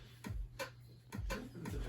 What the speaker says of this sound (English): the fundamental rhythm is the 1, 2, and 4 between the bass drum and the snare drum